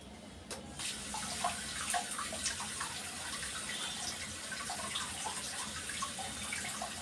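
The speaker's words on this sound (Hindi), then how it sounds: "तो मैं इसको नल के पानी में, बहते हुए पानी में धोऊंगी" Pointed gourds rinsed under a running kitchen tap, a steady close splash of flowing water with small irregular spatters as the vegetables are rubbed, no talking.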